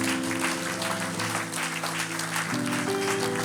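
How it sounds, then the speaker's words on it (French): Congregation clapping during an online Easter church service, steady sustained applause mixed with music and a murmur of voices. "Acclamons très fort le Seigneur."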